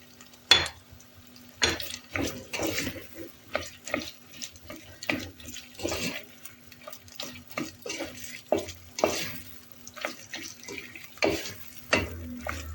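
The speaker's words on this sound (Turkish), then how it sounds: "salçamızı güzelce ezelim" Pepper paste and tomato paste mashed and stirred in a pot for a pea and meat stew, giving a run of irregular, close scraping and tapping strokes with small wet clinks, no voices.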